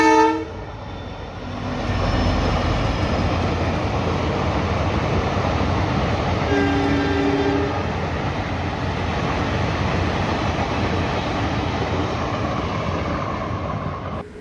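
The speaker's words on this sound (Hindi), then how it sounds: "यहाँ पर देख सकते हैं ट्रेन अभी हॉर्न मार रही है, ट्रेन अभी आ रही है।" A train horn sounds in long sustained blasts over the steady rumble of an approaching train in an Indian village, loud and close, with a second round of horn notes midway.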